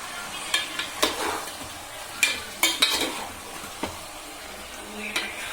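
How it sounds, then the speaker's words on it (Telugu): Chicken, oil and onion are stirred in a pan with a spoon, giving soft sizzling under intermittent scraping clacks of the utensil against the pan at close range. "మొత్తము ఆయిల్ అది ఆనియన్ ఉంటుంది కదా, మొత్తము చికెన్కి పట్టేటట్టు బాగా కలపాలండి"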